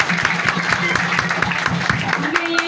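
Audience applause welcoming a group member being introduced, brisk rhythmic clapping from many hands at a steady level over the whole stretch, with a faint voice near the end.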